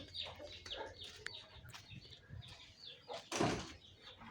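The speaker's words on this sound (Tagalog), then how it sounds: "Mga manok yan. Nangingitlog na manok yan." Egg-laying backyard chickens cluck and call in short bursts, close and fairly faint, with a few sharp knocks or bumps mixed in.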